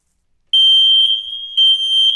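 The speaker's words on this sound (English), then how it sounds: "but this is the smoke alarm. They are wired to the mains and do run upon a battery pack." A loud, piercing electronic smoke alarm test tone from a mains-wired alarm with battery backup sounds close by indoors, holding steady for about a second, dipping briefly, then surging again with no voices.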